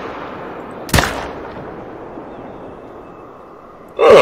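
Two gunshots ring out in the hunting game theHunter: Call of the Wild as a player fires at an animal, about three seconds apart, the second louder and longer, over a quiet outdoor backdrop.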